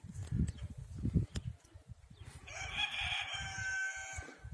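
A village rooster at a free-range chicken farm crows once in a long drawn-out call, slightly distant, after low thumps and rustling at the start.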